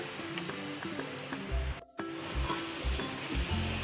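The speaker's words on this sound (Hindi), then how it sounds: "वो फ्लेम पे हम इसको थोड़ा सा पकाएंगे।" Chicken for spring rolls cooks over a flame in a pan, giving a steady, busy sizzle with occasional soft stirring knocks and a brief dropout in the middle.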